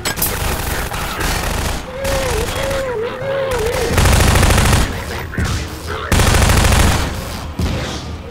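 Gunfire from Half-Life 2: Episode 2, loud bursts of rapid shots and heavy volleys from an enemy firing back in a zombie fight, with a rising alarm-like whine in between and a voice breaking in briefly.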